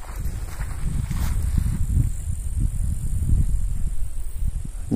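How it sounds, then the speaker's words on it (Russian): Wind blows steadily outdoors near barley fields and a forest in a Belarusian village, a continuous low rumbling buffeting close to the microphone with no speech. "Немного еще ветер, но"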